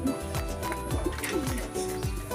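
A racing pigeon coos nearby in repeated soft, throaty rolling calls at an even rhythm, clear and close.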